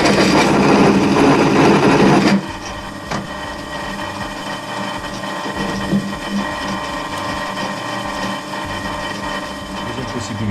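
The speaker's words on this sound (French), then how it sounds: "on le met sur la perceuse" A drill press running a countersink bit into steel, a loud whirring grind for the first two seconds, then a steady lower mechanical hum of the machine idling.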